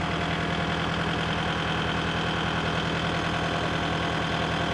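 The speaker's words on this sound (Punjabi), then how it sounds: "ਇਹ ਭਾਜੀ ਇਸ ਵੇਲੇ 1100 ਚੱਕਰ ਦੇ ਉੱਤੇ ਆ ਜੀ ਟਰੈਕਟਰ" A Japanese tractor engine idles at 1100 rpm, giving a steady, close diesel rumble with an even, rhythmic knock that holds unchanged throughout, with no voices.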